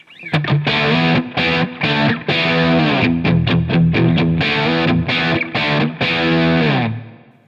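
An unprocessed overdriven Stratocaster electric guitar plays loud, gritty chords and short riffs, with brief gaps between phrases and no other sounds.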